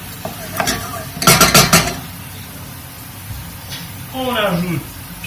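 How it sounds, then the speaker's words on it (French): Food browning slowly in a pan over low heat for a Mauritian dish, with a brief burst of stirring scrapes and a soft, steady sizzle beneath a voice talking. "On fait roussir également. Toujours à feu bas."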